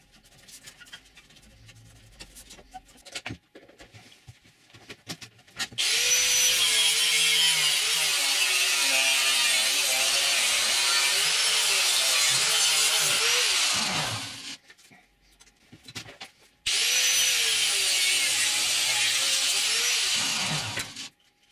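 Plastic being cut with a power tool while restoring a Rock-Ola jukebox display board: a loud, steady high-pitched whine runs for about eight seconds, stops briefly, then starts again for several more seconds.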